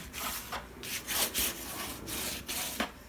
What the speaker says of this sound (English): Still spreading out the glue.